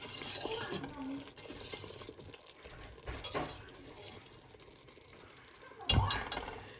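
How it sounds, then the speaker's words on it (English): A sweet toffee mixture for cracker toffee is stirred in a pot, with soft scraping and swishing strokes near and fairly quiet, ending in a brief sharp clatter. "Now it says to stir it occasionally, so I'm stirring it one more time"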